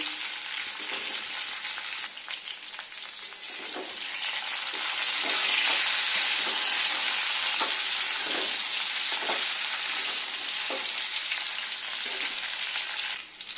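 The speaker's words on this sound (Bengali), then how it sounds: "তো এটা প্রথমে ভেজে নিচ্ছি, শুধু আলু আর ফুলকপি।" Potato and cauliflower pieces fry in a pan with a dense, continuous hiss that swells midway, while stirring taps and scrapes recur close by.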